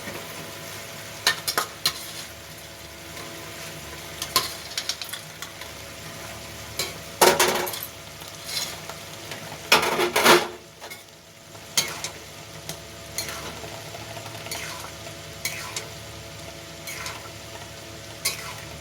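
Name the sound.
soya chunks being added and stir-fried in a pan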